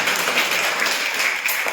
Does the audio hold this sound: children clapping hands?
yes